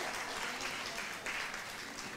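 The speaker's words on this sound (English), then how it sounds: "A round of applause, ladies and gentlemen." An award-ceremony audience gives a steady round of applause, a soft, dense wash of many hands that stays even and fairly distant for the whole moment.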